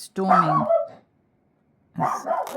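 A dog barks indoors while a thunderstorm rages outside, a burst of loud, close barks followed by a pause and then another round.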